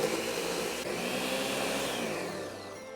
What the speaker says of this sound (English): Now the blender is all set up. We're going to give it a spin.